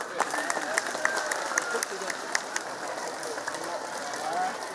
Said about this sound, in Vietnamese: đề nghị các vị đại biểu, các đồng chí cán bộ, đảng viên cùng toàn thể nhân dân đứng dậy, vỗ tay đón chào Thủ tướng